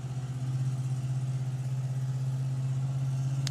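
A drag racing car engine at the STP Sportsman Nationals runs at a steady, loud, deep idle with an even throb throughout, close by and with no voices over it.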